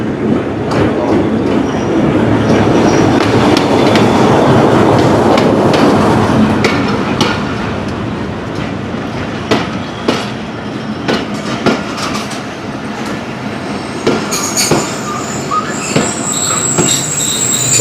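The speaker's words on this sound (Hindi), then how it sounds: "कोहाट एक्सप्रेस जो है वो गोल्डन रेलवे स्टेशन पर आ रही है" The Kohat Express passenger train, hauled by locomotive PHA 28316, rolls into a railway station with loud, sustained wheel squeal, rumbling cars and scattered metallic clanks and knocks that ease off as it slows.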